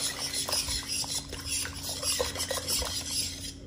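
Sourdough ingredients and water being stirred together in a bowl, giving a continuous scraping, sloshing rub with small irregular clicks throughout, close and moderately loud, with no talking.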